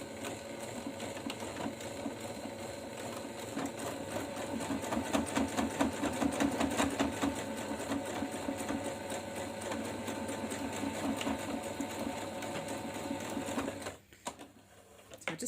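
A sewing machine stitches a cloth face mask, reverse-stitching over the elastic anchor points with a rapid, rhythmic mechanical chatter that speeds and slows, close and continuous, stopping briefly near the end.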